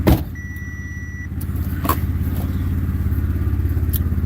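Steady low road rumble from inside a moving car, a continuous engine and tire drone with a few faint clicks and rattles.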